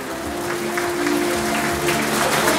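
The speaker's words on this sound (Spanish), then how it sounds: "Fuerte las palmas para Luis Schneider" Applause from an audience at a primary school graduation ceremony, a steady wash of clapping over a low hum with no talking.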